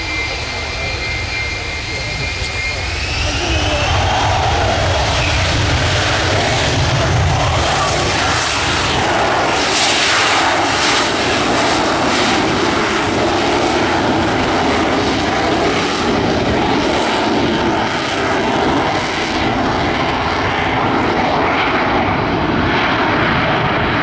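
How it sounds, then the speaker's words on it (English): An RAF F-35B jet using its Rolls-Royce lift system at the RIAT 2024 air display roars loudly and continuously, its engine noise rising and holding, with an announcer speaking under the roar. "Rolls-Royce lift system on the F-35B model really coming into play."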